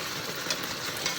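Food cooks in a pan on the stove after the cook gets home from work, giving a steady low sizzle and faint stirring scrapes throughout, with no talking.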